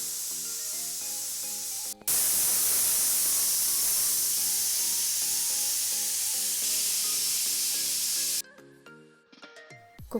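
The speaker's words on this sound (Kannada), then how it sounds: "ಕ್ಲೋಸ್ ಮಾಡಿಕೊಂಡು 2 ರಿಂದ 3 ವಿಷಲ್ ಬರೋ ತನಕ ವೆಯ್ಟ್ ಮಾಡಬೇಕಾಗತ್ತೆ." A pressure cooker with bisi bele bath on the stove gives a loud, steady hiss of steam that cuts in sharply after two seconds and stops abruptly near eight seconds, with soft background music running throughout.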